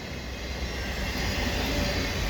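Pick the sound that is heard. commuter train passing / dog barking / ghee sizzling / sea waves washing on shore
commuter train passing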